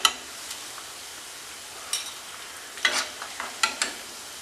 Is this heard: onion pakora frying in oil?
yes